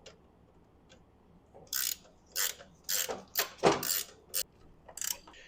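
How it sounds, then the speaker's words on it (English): A wrench tightens the wheel bolts on a Yamaha FZ1 motorcycle with short bursts of ratcheting clicks, several separate runs of clicking with quiet gaps between them, close and crisp. "So let me use my wrench on the other side."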